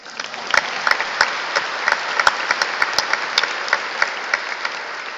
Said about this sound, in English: We can clap for her too.